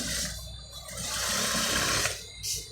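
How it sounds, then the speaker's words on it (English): A sewing machine runs close by, topstitching fabric for an etibo or senator-style garment, with its rapid needle whir rising and falling across the clip. "You can as well top stitch on this side."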